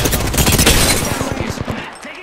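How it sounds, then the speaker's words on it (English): Rapid gunfire from an Apex Legends firefight, dense bursts of shots crowding together loud and close, then thinning into scattered lower thuds as the exchange trails off. "Taking fire."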